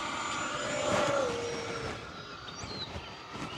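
An FMS Yak 130 70mm electric ducted-fan RC jet taking off, a steady whooshing fan roar that swells briefly and then eases as the model climbs away, with a faint bird chirp in the background.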